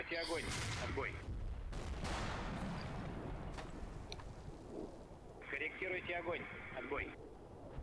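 Heavy .50 caliber machine gun fire and other gunshots in a snowy wartime strategy video game, rattling bursts and sharp reports against a busy battle din, with someone talking over it.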